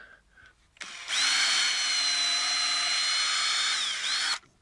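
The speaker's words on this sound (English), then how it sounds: "So I'm just going to take my drill," A power drill whirs up to a loud, steady whine for about three seconds while drilling a pilot hole in wood, dips briefly near the end, then stops abruptly.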